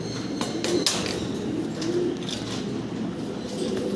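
An imported pigeon pair cooing nearby in low, rolling murmurs, with a few sharp knocks and taps in the background.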